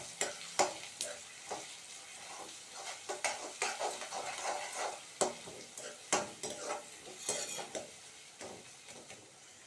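Garlic paste and whole garlic cloves sautéing with mustard seeds for a garlic pickle, a soft sizzle broken by repeated scraping clinks of a spoon stirring in the pan, close and fairly quiet.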